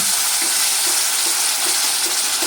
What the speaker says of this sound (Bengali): তো এবার আমি এর মধ্যে দিয়ে দেব বেটে রাখা মশলাটা। বেশ কিছুক্ষণ ধরে ভালো করে নেড়ে চেড়ে নেব।